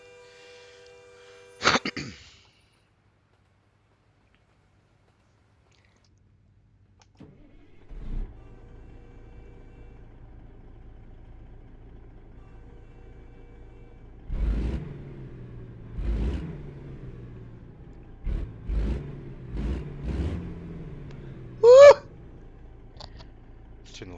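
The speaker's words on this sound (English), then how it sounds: "So this is a Kenworth." A Kenworth truck in American Truck Simulator starts up and its engine idles low, then revs in several rising bursts, with a brief horn-like tone near the end.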